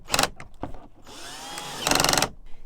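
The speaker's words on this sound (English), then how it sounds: "put both of your M8 by 20 bolts back into place and then cinch them down." M8 bolts on a Jeep Wrangler Bestop Sunrider soft top being tightened with a power tool: short buzzing bursts, one sustained whirring run in the middle, then another burst, close and loud.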